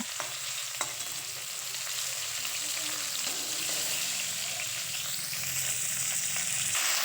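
Cauliflower pieces fry in oil, a constant close crackling sizzle with occasional stirring scrapes, steady throughout.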